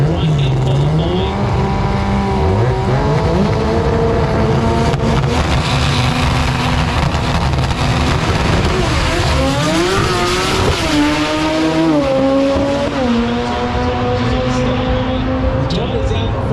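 Pro Compact drag racing cars roar off the line at a drag strip jamboree, with loud sustained engine revving and rising, sweeping pitch as they accelerate, while a commentator talks throughout.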